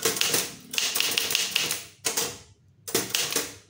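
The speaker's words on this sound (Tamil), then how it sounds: "இப்போ அப்படியே டைப் பண்ணுங்க." Keys on a Tamil typewriter clatter in quick, dense bursts of sharp mechanical strikes, close and loud, broken by two short pauses and separated by brief silences.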